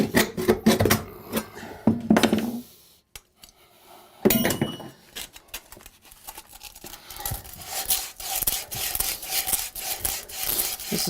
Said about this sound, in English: then we just take the hacksaw and cut that off